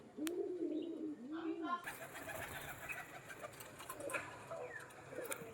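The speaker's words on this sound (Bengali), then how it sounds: "আমাদের তিনটে পায়রা ল্যান্ডিং করে ফেলেছে আর এই তিনটেও করে ফেলবে কিছুক্ষণের মধ্যেই" A pigeon gives two rising-falling coos close by, then the scene shifts to busier loft noise with wing flutters, faint chirps and ticking at a pigeon loft where birds are landing after flight, with talk faintly in the background.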